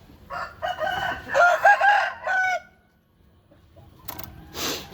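Roosters crow in several long, drawn-out calls, loud and close, followed by a brief pause and then a sharper cluck or call near the end; no talking.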